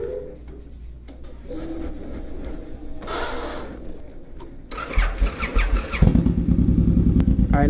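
Suzuki Boulevard C109R motorcycle engine rumbling at idle, with a louder, rougher throttle surge near the end; no talk.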